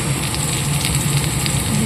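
Chili powder hits potato pieces frying in oil with dried red chili and turmeric in a Bengali curry, giving a close, steady crackling sizzle with no voices.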